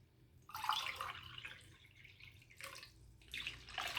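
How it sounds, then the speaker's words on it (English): Water poured cup by cup into a rice cooker holding maize flour for ugali, a splashing pour in separate bursts with short pauses between them, fairly close and moderately loud. "I'll just add 4 cups of water."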